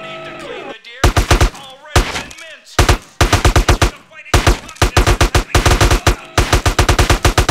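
Bursts of automatic AK assault rifle fire in GTA San Andreas, loud and close, several rapid volleys separated by short pauses, with a final longer sustained burst.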